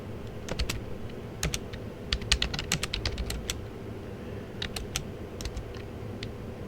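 Fingers type in bursts on a computer keyboard close by, quick light key clicks in several short runs with pauses between, and no voices.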